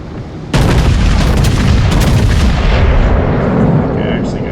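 Warship guns fire in the World of Warships video game, a heavy close boom that erupts and rolls into a sustained, loud rumble with scattered crackling bursts.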